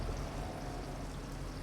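Water pouring and streaming steadily while greenhouses are watered in Farming Simulator 25, a continuous, even rush of liquid with no talk.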